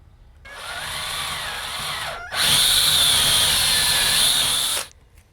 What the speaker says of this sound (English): I'm going to grab my drill and it'll just go right through.